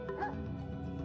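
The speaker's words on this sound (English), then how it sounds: "He barks like crazy." A dog named Caesar gives short yipping barks and a whimper at a doorway, close and fairly loud, in one brief burst.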